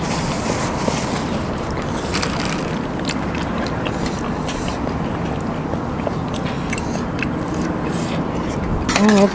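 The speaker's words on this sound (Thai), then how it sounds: "ลมพัดดี" Steady broadband wind blows across the microphone outdoors during a spicy crab and shrimp meal, a continuous rushing roar with brief voices and a gust swelling at the end.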